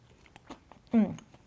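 A bite into a crunchy fried chicken breast sandwich with a floured, spiced coating, one close, short crunch after a stretch of quiet room sound.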